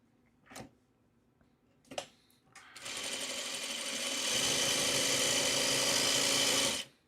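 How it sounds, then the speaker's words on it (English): A sewing machine joins fabric squares for a bag, starting after a couple of faint clicks and then running steadily and fairly loudly for about four seconds before stopping. "I'm sewing 9 of these squares together."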